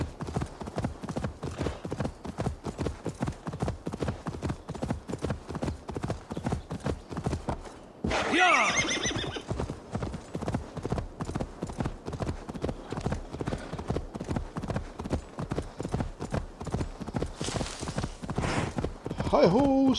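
Horse hooves in Assassin's Creed Valhalla clip-clop in a quick, steady rhythm close by, broken briefly by a louder burst partway through before the trotting resumes.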